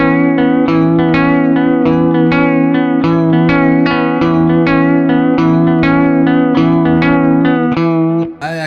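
An electric guitar lead with a vibrato effect plays a verse melody, a steady run of wavering, sustained picked notes with echo and reverb, loud and alone until it stops abruptly near the end.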